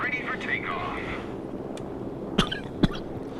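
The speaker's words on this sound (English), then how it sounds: "Sorry about that, coughed a bit." A person coughs twice in quick succession, short sharp bursts standing out over a steady low background hum during a World of Warships gaming session.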